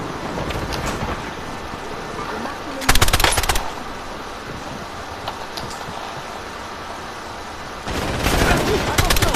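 Machine gun fire in the video game Warzone comes in two short rapid bursts, one near the middle and another at the end, over a continuous rumbling game background.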